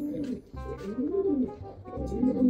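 Breeder pigeons coo in a cage, several low throaty rolling calls overlapping close by with no talk.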